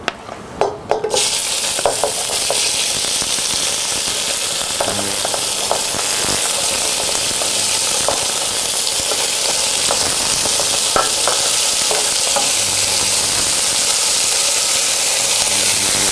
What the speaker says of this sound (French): Verser par petite quantité pour ne pas trop refroidir le fond du récipient les tendrons.